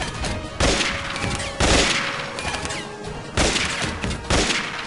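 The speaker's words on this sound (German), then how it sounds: "Ich werde direkt wieder unter Beschuss genommen" Gunfire in the video game Prism Guard Shield comes in loud, booming bursts repeating every second or so, each blast followed by a rumbling tail.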